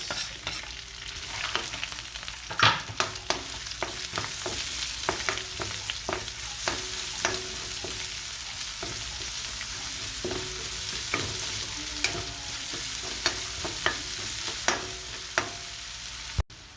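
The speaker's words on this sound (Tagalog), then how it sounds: "dyan na rin natin igigisa yung bawang" Garlic and onion sautéing in a pan for chicken adobo with pineapple, a steady bright sizzle broken by scraping stirs and clinks of a utensil against the pan, close and continuous with no talking.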